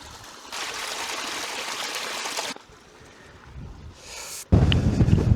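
A stream flowing well high on Kinder Scout moorland, its steady rushing trickle broken up by gusts of wind buffeting the microphone and a loud burst near the end.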